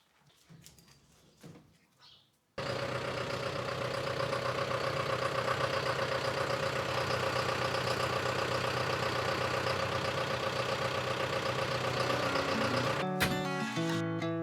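A tractor engine starts with a thump after brief background noise, then runs at a steady loud idle, a constant droning rumble with a hum that holds for about ten seconds before shifting near the end.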